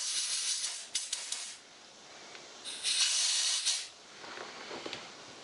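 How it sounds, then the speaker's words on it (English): Compressed air blasts grease out of a motorcycle petcock valve in two sharp, close bursts of loud hissing, followed by a softer, fainter spurt of air. "I'm just getting ready to blow this grease out of here"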